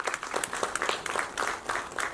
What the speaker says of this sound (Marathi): स्वतःसाठी जोरदार टाळ्या वाजवून घ्या प्लीज